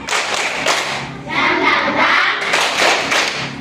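A group claps hands together for a classroom cheer, the broadband claps close and loud, running steadily with a brief lull before picking up again.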